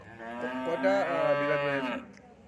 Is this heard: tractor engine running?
no